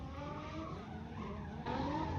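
A car doing a burnout at SEMA, tires skidding and squealing under a loud, steady engine roar that surges louder near the end, with no talk.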